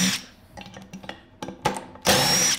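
A power driver fitted with a T50 Torx bit spins in short bursts while installing a clutch kit on a 2021 or newer Can-Am Commander, several brief whirs ending in a louder, sustained run.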